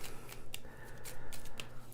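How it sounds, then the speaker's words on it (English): Playing cards being shuffled by hand during a board game session, several quick riffling bursts in an irregular rhythm, close and crisp, with no talking. "You shuffle them up."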